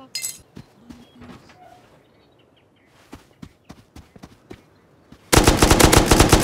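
Automated turrets in the survival game Rust open fire in a dense, loud burst of rapid gunshots near the end, after sparse footsteps and clinks in an otherwise quiet stretch.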